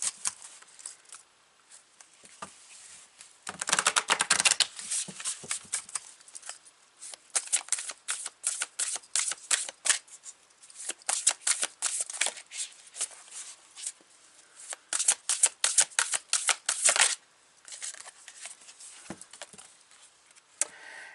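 A Spirit Junkie tarot deck is shuffled in quick bursts of crisp card riffles and clicks, close and fairly loud, with short pauses between rounds and no speech.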